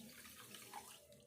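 Water poured from a cup into sugar in a pot to make a light syrup, a brief soft continuous splashing trickle, faint and close, no voices.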